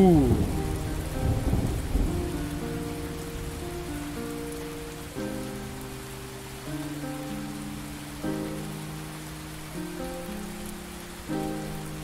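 Heavy rain hisses steadily throughout, with a rolling rumble of thunder near the start, all beneath sustained tonal music.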